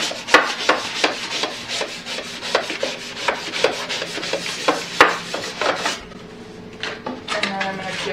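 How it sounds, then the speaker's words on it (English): A drywall knife scrapes across liner laid on an old wooden dresser to flatten it. The close scraping strokes come in a steady rhythm, then stop, leaving a quieter stretch with light handling noise. "drywall knife, and I'm just going to use this to flatten it out."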